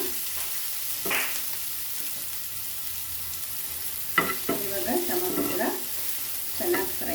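Tomato and onion frying in a pan, a steady sizzle broken by several clattering stirs of a spatula, louder bursts around the middle and near the end.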